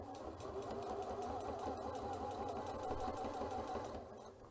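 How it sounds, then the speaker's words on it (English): A Janome C30 sewing machine topstitches a fabric pouch with a steady, close, rapid mechanical whir of the needle that runs for about four seconds before easing off, and no voices. "So I'm going to start sewing now."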